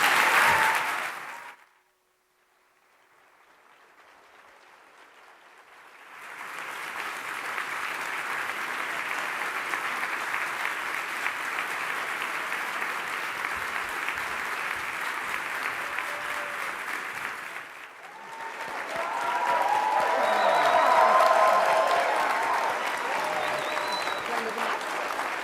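Loud, sustained audience applause welcomes Justice Sonia Sotomayor and Professor Melissa Murray to the stage at a convention hall, swelling again after a brief dip and continuing for many seconds.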